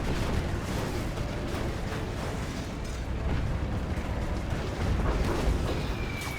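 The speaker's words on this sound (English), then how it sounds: "Hard Army dropping another particle cannon, probably onto another arms dealer" In the Hostile Dawn strategy game, a particle cannon strike and battle carry on as a dense, continuous roar of explosions and booming impacts, loud and sustained with repeated surges.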